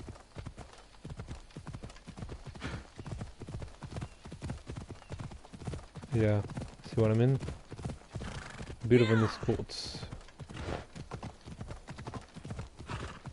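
Rhythmic clip-clop of horse hooves throughout, with a couple of whinnies midway, while someone talks over it, in Assassin's Creed Odyssey.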